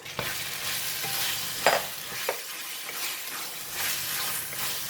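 Whole petai stink beans stir-fried in sambal give a steady close sizzle, broken by a few sharp spatula scrapes and stirs against the pan.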